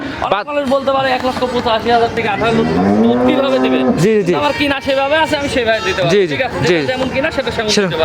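An Indian Mundi dairy cow moos in loud, drawn-out bellows, repeated several times close by with barely any pause between calls.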